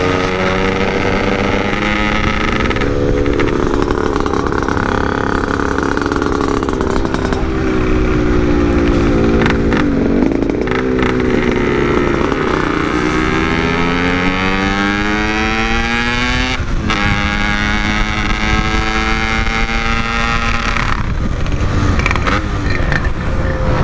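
Several Yamaha RX-King two-stroke motorcycles ride at night, and their loud, raspy engines rev up and down in sweeping pitch changes. Bikes pass close by with overlapping drones and keep going for the whole stretch.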